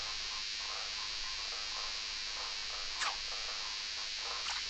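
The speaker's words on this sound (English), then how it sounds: "The soothing sounds of cicada." Cicadas buzz across a summer field in a video game, a constant high droning hum that stays quiet and even, with a couple of faint chirps and no voices.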